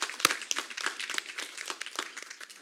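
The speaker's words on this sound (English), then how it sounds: "another round of applause for these ladies" A modest round of applause from a small audience at a city council meeting: scattered hand claps at moderate distance, brief and uneven, with no voices.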